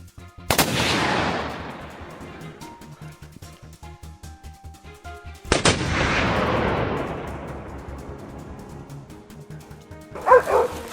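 Two loud, close rifle shots a few seconds apart, each a sharp crack followed by a long rolling echo that fades slowly, with a brief burst of dog barking near the end.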